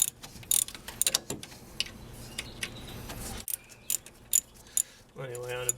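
A ratchet works on the 12mm bolts through the AC compressor of a 1991 Miata, giving scattered clicks and metallic clanks with pauses between them, then a quick run of ratcheting clicks at the end; someone speaks briefly.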